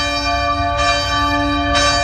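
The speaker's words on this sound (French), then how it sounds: "la cloche appelle les moines à l'office" A monastery church bell rings out, calling monks to the office, with two loud, close strikes about a second apart and a steady metallic hum that sustains between them.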